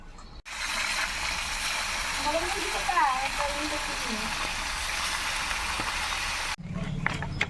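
Fish pieces fry in a hot pan, giving a loud, steady sizzling hiss with crackling spatters that runs for several seconds and then cuts off, with faint voices in the background.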